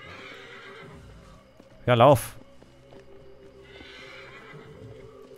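A zebra-like horse in the Ancestors: The Humankind Odyssey game gives one loud, quavering whinny lasting about half a second amid a faint game ambience of soft hoofbeats, while someone speaks briefly before and after.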